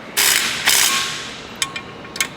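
Torque wrench tightening an exhaust bolt on a 991.1 Porsche 911, with two bursts of ratcheting clicks followed by two softer, brief clicks, close and alone.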